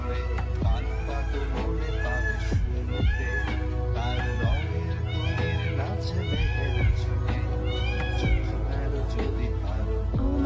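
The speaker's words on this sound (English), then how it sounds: "Oh, there's a cat right there." A cat on a Miami street meows again and again, each cry a rising-falling wail repeating every second or so, fairly close and clear over steady low outdoor hum and faint background voices.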